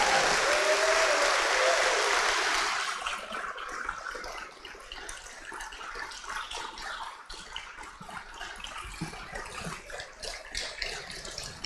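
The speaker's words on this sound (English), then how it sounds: "Let's all clap for the class." A school audience at a yearbook dedication breaks into dense, steady applause that holds strong for a couple of seconds, then thins into scattered, fading claps and light room noise.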